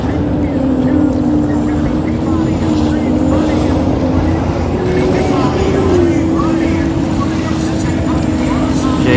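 Loud, steady engine roar of hydroplane racing boats at Guntersville Hydrofest with a sustained droning whine that slowly shifts pitch, while a voice talks over it throughout.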